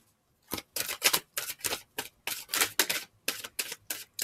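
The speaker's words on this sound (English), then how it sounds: "So these cards that I'm shuffling right now are Angels of Abundance." A deck of oracle cards is shuffled close up in quick crisp bursts of riffling and slapping cards, about a dozen rapid clustered strokes separated by short pauses, with no talk.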